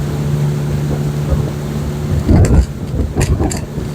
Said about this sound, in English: Arriving via boat through the Jungle River tour.